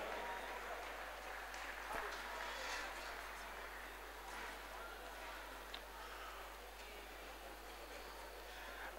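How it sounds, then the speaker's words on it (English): Audience applause at a 60th birthday celebration and thanksgiving service, a steady broad wash of clapping from a crowd held at an even level throughout, fairly faint and distant. "A round of applause for them."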